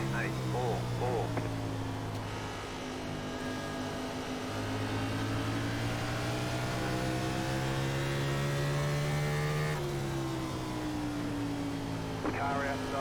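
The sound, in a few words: NASCAR race car engines in iRacing video game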